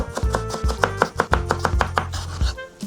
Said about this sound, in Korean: 이런 식으로 일자로 썰어서 돌려가지고 이렇게 큐브로 썰어주시면 돼요.